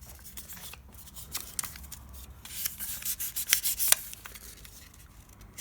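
Sandpaper rubs over the bezel of a Pebble Time smartwatch in quick, close scratchy strokes, growing louder and busier toward the middle before easing off, with no talking.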